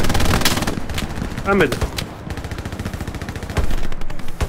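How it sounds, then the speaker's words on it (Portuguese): Rapid gunfire in the World War II shooter Hell Let Loose, with dense automatic bursts and sharp shots, loud and close throughout, while someone speaks over the shooting. "Me viram e me atiraram, só que não me mataram."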